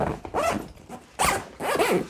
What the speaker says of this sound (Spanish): el cierre de cremallera es muy simple, tiene dos cremalleras, una a cada lado